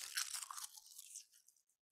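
Faint, crisp crunching from dried kelp seaweed being bitten and chewed up close, a dense brittle crackle that tapers off into silence after about a second and a half.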